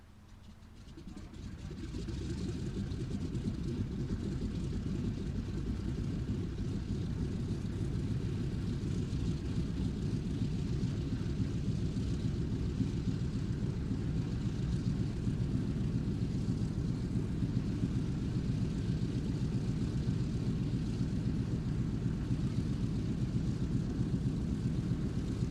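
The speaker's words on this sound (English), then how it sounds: "So we started off with the F-15" A modern F-15 fighter jet flies at the Duxford airshow, its distant engine roar swelling over the first few seconds. The rumble then holds as a steady, broad wash of jet noise.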